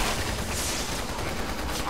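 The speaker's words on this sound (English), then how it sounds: "There's no point in shooting them." Gunfire in Resident Evil 6, Leon's campaign: a dense, steady crackle of rapid shots and fusillade filling the whole stretch, loud and continuous, without any voices.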